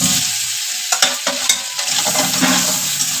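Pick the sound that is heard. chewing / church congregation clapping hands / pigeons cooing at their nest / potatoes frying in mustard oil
potatoes frying in mustard oil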